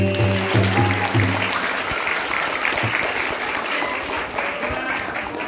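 Applause from a school audience at a madihin recitation contest for Hari Santri, a dense wash of clapping that holds steady and fairly loud throughout, with a brief low tonal tail at the start.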